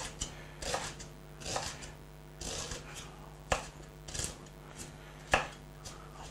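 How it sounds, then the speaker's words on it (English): Knife chopping an onion into small pieces on a cutting board in a home kitchen, a steady series of close, sharp knocks with short pauses between bursts and no talking. "Okay, and we cut the onion."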